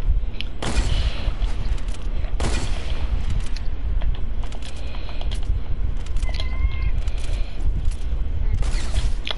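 Video game gunfire bursts out in several sharp, loud volleys with booming low thuds between them, repeating over a constant rumbling backdrop.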